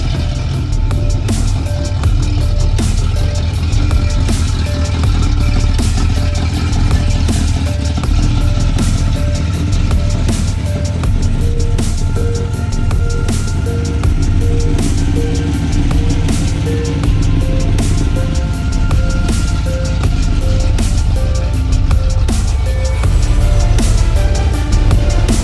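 A Mopar muscle car engine runs steadily after starting on the first crank, a loud, deep continuous rumble with a low throbbing idle, close by and alone.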